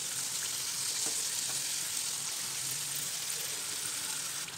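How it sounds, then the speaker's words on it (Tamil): Somas pastries deep-fry in hot, bubbling oil, giving a steady, soft sizzle and crackle that runs evenly throughout with no speech. "இந்த மாதிரி கொடி கொதி வந்து அதை அடங்கினதுக்கப்புறமா நம்ம எடுத்துக்கலாம்"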